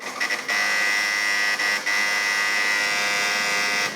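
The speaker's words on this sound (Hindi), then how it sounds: "फिर से आपने बजर दबाया" A quiz buzzer pressed during a children's quiz show sounds as a loud, steady electronic buzz, briefly stuttering at the start and again midway before holding to the end.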